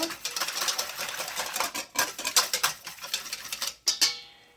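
A whisk beats olive oil into a sourdough mixture in a bowl, making rapid, close, rhythmic clinking and scraping strokes with brief pauses between bursts.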